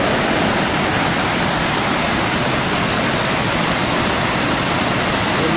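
Waterfall at Braska Falls in Canada, a loud, steady, close roar of heavily flowing water that continues unbroken with no voices.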